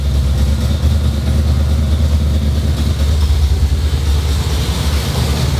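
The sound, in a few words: car engine idling after repair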